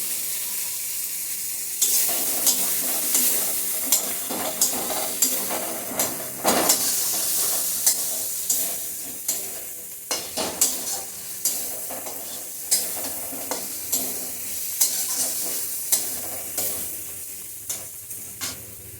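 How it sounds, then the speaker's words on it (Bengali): Spice paste for a Bengali egg curry fries and is stirred in a pan, with a constant sizzling hiss broken by regular scraping strokes of the spoon, close and fairly loud. "এখন সম্পূর্ণ মশলা একসাথে কষিয়ে নিচ্ছি"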